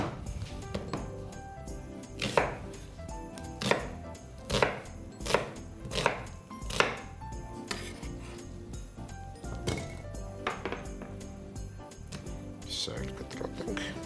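Knife chopping onion on a cutting board, a series of sharp, fairly close chops, some spaced and some quick, under steady low kitchen background with a voice in places.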